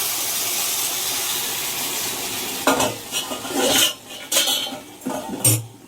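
Hot water is poured into a kadai of cooked, well-browned meat: a steady hissing rush first, then sharp metal clanks and stirring scrapes.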